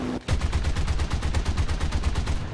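Rapid sustained machine-gun fire from the forward gun of an He 111 H-16 bomber in War Thunder, a steady stream of loud evenly spaced shots with heavy low thumps, continuing unbroken after a brief pause at the start.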